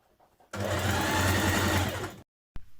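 A sewing machine stitching a maxi dress runs in one continuous loud whirring burst of about a second and a half, then stops abruptly, followed by a short click.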